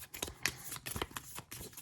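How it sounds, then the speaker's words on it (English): A deck of cards for the Legendary James Bond 007 deck-building card game being shuffled, a quick, dense run of close papery flutters and clicks lasting under two seconds. "I shuffle"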